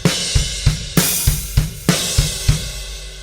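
Drum beat with loud crash cymbal hits landing on the snares, steady kick and snare pattern and an open hi-hat, played close and energetic with no talking.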